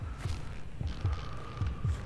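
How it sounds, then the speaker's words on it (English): Low, steady heartbeat thumps in Grand Theft Auto V while sneaking up to snipe, paired beats repeating at a slow even rhythm over a constant electronic hum. "What's that heartbeat?"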